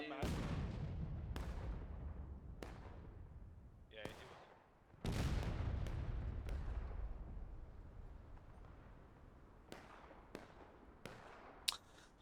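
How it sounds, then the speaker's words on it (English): Cannon artillery fire booms out repeatedly in the Civil War battle game War of Rights: about a dozen loud blasts at irregular intervals, each trailing off in a long rumbling decay. "See, I told you they had a cannon."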